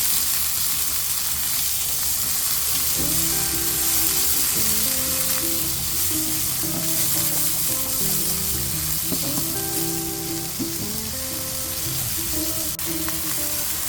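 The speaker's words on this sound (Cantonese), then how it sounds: "爆香之後落我哋出過水嘅毛豆同埋甘筍" Edamame and carrots hit a hot wok after ginger, garlic and shallots are fried, giving a steady, loud sizzle with stirring scrapes throughout and faint tonal sounds underneath.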